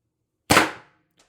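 A single sharp shot from a Pistelle X-68 CO2 air pistol, loud and close, with a brief decaying tail and a faint click just after, heard alone.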